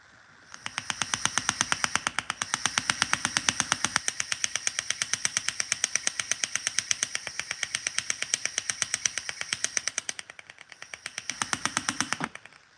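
Pneumatic hand engraving hammer running at a fast, steady rate of rapid even ticks, close and continuous for about ten seconds, with a short pause then a brief second burst.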